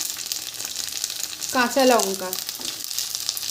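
Chopped tomato goes into oil with onions that have already been fried red, sizzling steadily in the pan while a voice speaks briefly over it.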